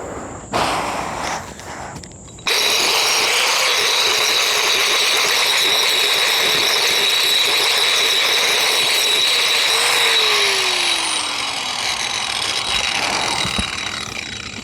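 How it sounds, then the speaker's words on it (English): A power tool grinds down knots on a wooden caber being shaped for the Highland Games, starting after a few scattered knocks and then running as a loud, continuous whining roar for about twelve seconds that eases slightly near the end. "those big ones take a while to grind down, but ultimately they come out pretty nice"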